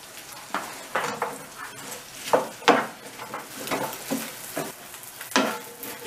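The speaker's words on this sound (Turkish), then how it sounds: "Pidelerimizi atıp böyle ısıtacağız, kızartacağız" Oil sizzles and crackles steadily as pita bread fries in a pan, with occasional sharper clinks and stirring scrapes; no voices.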